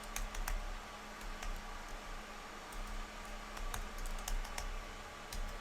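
Someone types steadily on a computer keyboard nearby, giving quick irregular bursts of key clicks over faint background hiss.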